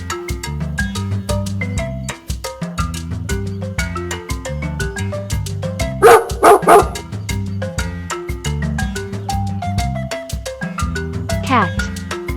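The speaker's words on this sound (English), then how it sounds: "Dog." A farm dog barks several times in a quick burst of loud yaps over a bouncy children's music track that plays throughout.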